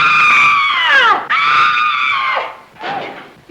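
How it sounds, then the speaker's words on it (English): A single person lets out a loud, shrill, drawn-out scream that breaks and bends downward in pitch, followed by a second long wail and a shorter, fainter cry, close and alone. "Did I hear somebody scream?"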